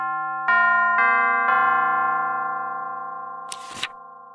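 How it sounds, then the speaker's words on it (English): Chimes ring with a sustained metallic tone as three more strikes land half a second apart, the notes overlapping and slowly fading. A brief noisy rustle follows near the end. "Chimes."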